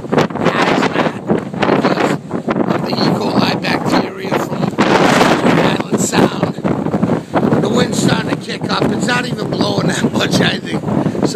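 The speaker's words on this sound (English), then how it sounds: "But it's not even blowing that bad yet. It's only blowing about 40, probably around 40 miles an hour." Strong hurricane wind from Hurricane Sandy, around 40 mph, roaring loudly and continuously across the microphone at a beach and yacht club in Mamaroneck, with gusty buffeting throughout and someone talking over it.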